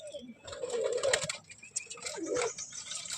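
Madras pigeons cooing softly and close, low throaty calls in short bursts, with faint rustles and small chirps around them.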